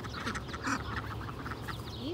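Geese calls, several honking quacks spread across a couple of seconds, close and fairly loud over steady outdoor background noise.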